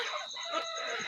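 Desi roosters and hens about four months old, kept inside a house at night, cluck and call in a brief burst of overlapping fowl sounds, fairly close and moderately loud, with no one talking.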